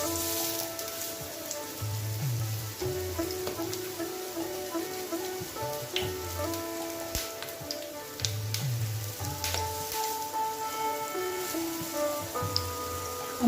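Sweet potato malpua batter frying in a non-stick pan, a steady close sizzle throughout with occasional soft spatula scrapes and background music tones.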